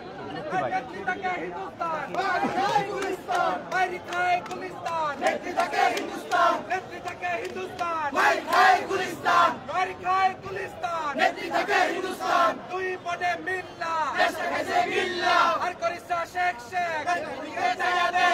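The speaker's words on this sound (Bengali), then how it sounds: "আপনারা দেখছেন এখন কিন্তু তারা এখানে স্লোগান দিচ্ছেন।" Large crowd of protesters in Bangladesh chanting political slogans in loud rhythmic unison, voices overlapping continuously with shouted call-and-response bursts.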